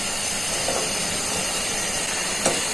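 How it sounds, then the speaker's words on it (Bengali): Nakshi pitha, a decorated Bengali rice cake, deep-frying in a pan of oil, giving a steady, even hiss and sizzle throughout with no speech over it. "এই পিঠাটা ডুবো তেলে ভাজতে হয় আর দুইবার করে ভাজতে হয়।"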